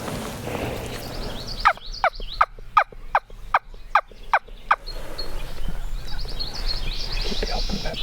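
A hunter's call gives a sharp series of about eight turkey yelps, evenly spaced and fairly close, with a wild turkey answering. The yelps stand out against a soft outdoor background, and quiet voices are heard at the start and end.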